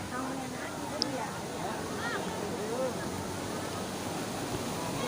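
Steady rushing of flowing water at the Ciater hot springs in Subang, a continuous broadband wash with no clear breaks, with faint voices and birds in the background.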